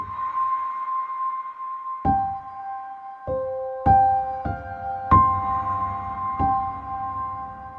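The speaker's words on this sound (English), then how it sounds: "Let's add a big reverb to this felt piano." Felt piano on a Zynthian synthesizer plays sparse single notes and chords, each soft attack followed by a long, spacious reverb tail that lingers into silence between notes.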